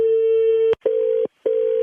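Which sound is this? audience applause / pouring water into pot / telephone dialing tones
telephone dialing tones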